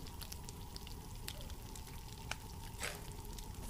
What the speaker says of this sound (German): Hört euch das Brutzeln an.